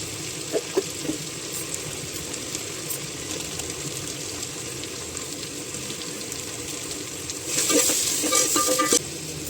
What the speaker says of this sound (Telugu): ఇందులో ఇప్పుడు కొద్దిగా సాల్ట్ అలాగే కారము బిర్యానీ మసాలా కూడా వేసేసుకుంటాను